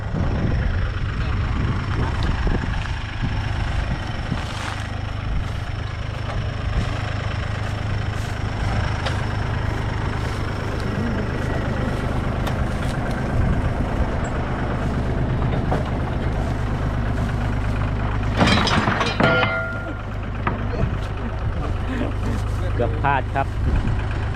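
A Kubota ET95 engine drives a water pump set up with an 8-inch intake pipe to drain a small fish pond. A loud, steady, close diesel drone runs the whole time with a brief clattering burst near the end.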